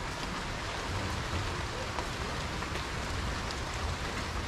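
Steady rain falls with a soft, continuous hiss and patter, fairly quiet and even throughout, with no voices over it.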